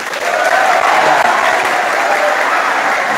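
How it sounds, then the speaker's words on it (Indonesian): Applause from a crowd at a Teachers Day event in an Islamic boarding school in Lhokseumawe, Aceh, a steady dense clapping that holds loud and continuous throughout. "Tepuk tangan untuk Fitra."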